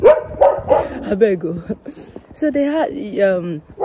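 A dog barks a few times close by, its yaps mixed in with a person talking steadily over it.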